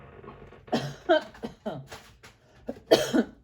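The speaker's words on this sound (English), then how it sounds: "Weird with this cough. Just a weirdo cough." A few harsh coughs from one person nearby, spaced irregularly, with a short rougher burst near the end; no other sounds around them.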